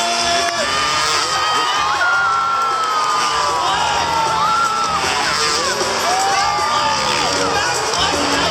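A large crowd at the Perth Royal Show cheers and whoops continuously for a backflip stunt, loud and sustained, with shouts rising over the roar.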